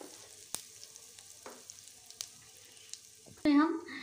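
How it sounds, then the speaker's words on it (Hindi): Panch phoron and asafoetida hitting hot mustard oil in a pan for a raw banana recipe, a soft crackle with scattered pops, then a sudden louder burst of sizzling near the end. "तेल गर्म हो चुका है फ्रेंड्स, अब इसमें हम पंचफोरन डालेंगे"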